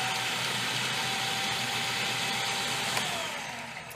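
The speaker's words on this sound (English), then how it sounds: "you notice how really quickly it actually chopped up that garlic" A Cuisinart FP-8P1 food processor chops garlic with a steady, loud motor whir that holds evenly for about three seconds, then begins to wind down near the end as it is switched off.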